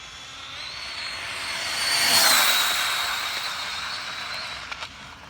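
A Traxxas Slash 4x4 RC car with alloy battery tray upgrades makes a high-speed pass, its whine rising from afar to a peak near the middle, then fading away, heard alone outdoors.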